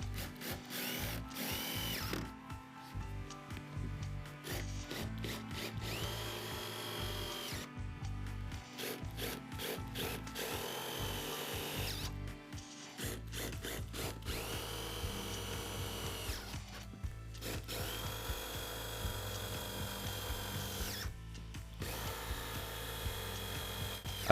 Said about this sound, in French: Après avoir vissé toutes les vis